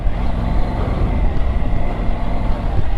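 A Triumph Tiger 850 Sport motorcycle pulls away in first gear on a trail, and its engine gives a loud, close, continuous low throbbing rumble that holds steady throughout, with no speech over it.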